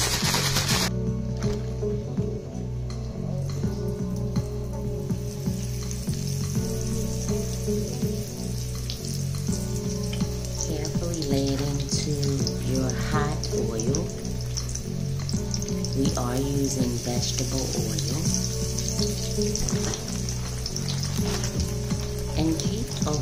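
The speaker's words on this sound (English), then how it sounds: "keep a watch on how fast it's frying, because it cooks pretty fast" Steady, loud sizzling of turkey cutlets frying in a hot pan, a continuous crackling hiss with small pops throughout and no talking.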